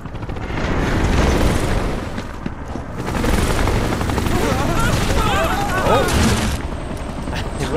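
A chopper in the Final Fantasy 7 Rebirth video game, heard as a loud, steady rotor and engine roar mixed with battle booms and gunfire, while voices chatter over the action.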